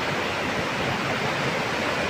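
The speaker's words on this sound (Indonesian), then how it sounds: "Mari kita selusuri air terjun." Steady, dense roar of falling water at the first tier of a waterfall in Southeast Aceh, broadband and unbroken throughout.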